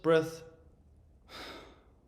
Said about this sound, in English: look at the in-breath again, it would be pushing out the belly. And then the out-breath.